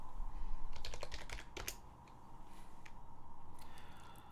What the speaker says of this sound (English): I gotta type in my password